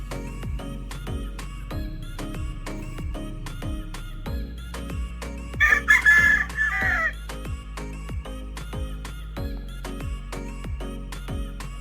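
At a gamefowl farm, claret white-legged game roosters crow once loudly midway, surrounded by steady, rhythmic ticking and faint clucking in the background.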